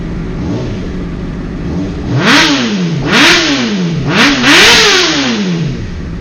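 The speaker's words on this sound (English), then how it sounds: "let me go ahead and give you a couple revs so you can hear how it sounds" A motorcycle engine idles, then revs up sharply three times in quick succession, each rev rising and falling, loud and close.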